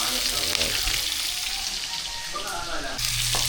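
Onions sizzle and crackle in hot oil in a large pan, a dense, steady frying hiss running close throughout with a few brief stirring clatters near the end.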